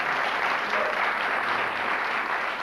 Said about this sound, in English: a round of applause for the Guildhall